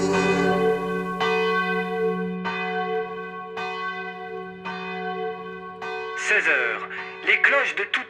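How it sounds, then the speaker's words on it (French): Church bells in France toll in a steady rhythm, about six strong strikes with ringing overtones, before a speaking voice comes in over them near the end. "Les cloches de toutes les églises de France retentissent."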